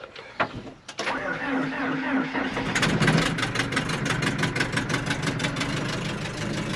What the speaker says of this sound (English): Let's see if this backhoe is going to start.